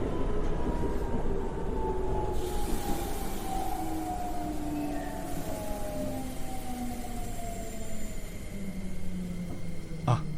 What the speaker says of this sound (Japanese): 電車が来ましたよ